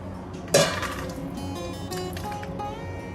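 A sprouted moong mixture for paratha dough is transferred into another bowl: a single near clink of dish or spoon against the bowl, then soft faint handling sounds over a steady background hum.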